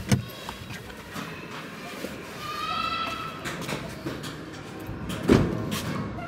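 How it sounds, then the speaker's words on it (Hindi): A Maruti Suzuki Baleno Delta locks and its security system arms: a brief click and a short electronic chirp, then a firmer clunk near the end, over quiet outdoor background. "अभी कार को लॉक कर रहा हूँ, आप देखोगे ये, इसका मतलब है सिक्योरिटी सिस्टम जो भी है वो एनेबल है"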